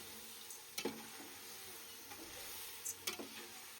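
Chicken marinated in salt, turmeric, chili powder and garam masala sizzles in a pan with fried ginger-garlic paste, a steady quiet hiss broken by a few sharp clinks of stirring.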